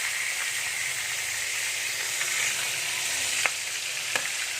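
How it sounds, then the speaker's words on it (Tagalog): Milkfish (bangus) deep frying in hot oil gives a steady, close, hissing sizzle with a few sharp pops and crackles near the end, no talk. "Habang naluto ito sa prito,"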